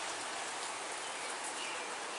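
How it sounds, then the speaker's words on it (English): Steady rain falling outdoors on a rainy May day, a dense continuous hiss of drops hitting surfaces, even and unbroken throughout with no voices. "Listen to the sound of the rain."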